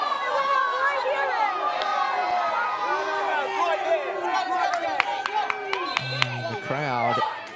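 A stadium crowd at a women's A-League football match between Melbourne Victory and Canberra United grumbles and jeers in displeasure at the referee. The noise is a broad, restless roar under a commentator's continuous talk.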